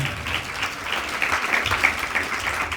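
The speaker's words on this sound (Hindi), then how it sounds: "ताली अच्छे से बजाना है तो" Audience at a spiritual discourse claps together, a moderately loud, continuous patter of many hands with slight swells, lasting just under three seconds.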